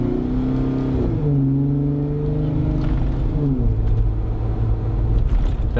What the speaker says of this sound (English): It pulls much cleaner with this exhaust on.